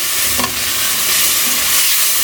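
Tomato puree hitting a pan of frying ginger, garlic and chilli, giving a loud, steady, close hiss of sizzling over medium heat, with a faint knock near the start.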